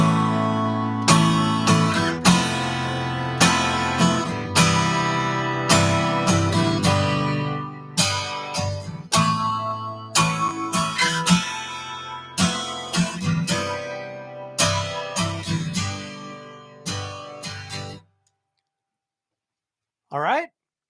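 An acoustic guitar plays a strummed major barre chord with ringing open strings on top, in repeated rhythmic strums that are loud and close, then stop abruptly near the end before a brief final burst.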